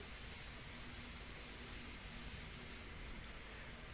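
A Sotar airbrush spraying India ink onto paper gives a steady, faint, breathy hiss that runs without a break and shifts slightly near the end, with no one talking.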